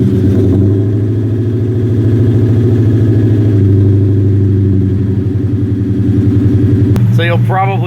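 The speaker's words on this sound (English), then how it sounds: "So you'll probably notice from the sound of that exhaust, this is not a V6 Mustang anymore." An engine-swapped New Edge Ford Mustang, originally a V6, running on a dyno with a loud, deep, steady exhaust drone held close up; a brief higher whine or voice-like burst comes near the end.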